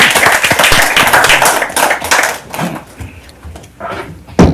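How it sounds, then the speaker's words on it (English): Round of applause at a city council meeting, a burst of hand clapping from a small room that thins out and fades after a few seconds, ending with a single sharp knock. "let's give him a round of applause"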